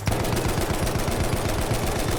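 Rapid, loud bursts of stationary MG heavy machine gun fire in a World War I video game, with shots hammering out in a dense, continuous rhythm and heavy battle noise all around.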